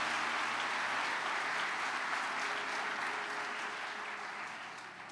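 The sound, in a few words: congregation applauding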